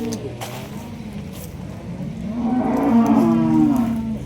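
At a busy cow market, a cow lets out a long, loud moo in the second half over a steady background of crowd and traffic noise.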